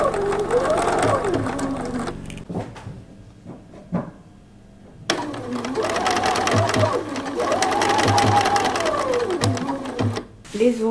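A sewing machine with a blind hem foot stitches an invisible hem in two rapid whirring bursts separated by a pause, with someone speaking between and over the stitching.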